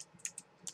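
A few light clicks of typing on a computer keyboard, soft and close, spaced unevenly over a quiet background.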